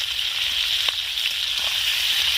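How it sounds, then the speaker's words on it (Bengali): Drained chicken pieces fry in a wok with onions, giving a steady, close, bright sizzle of hot oil with faint crackles and a light scrape of stirring, and no talking. "ধুয়ে রাখা চিকেনগুলো আমি জল ঝরিয়ে রেখেছিলাম চিকেনগুলো কড়াইয়ের মধ্যে দিয়ে দেবো"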